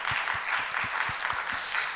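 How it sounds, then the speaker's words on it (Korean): A church youth congregation at a Sunday worship service claps in unison, a brisk regular rhythm of about eight to nine claps over two seconds, moderately loud and close, with no talk over it. "우리 박수 한번 하겠습니다"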